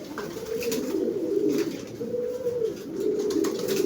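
Pigeons coo in low, throaty repeated rolls at close range while feeding on breeder mix, several overlapping calls swelling and fading without a break.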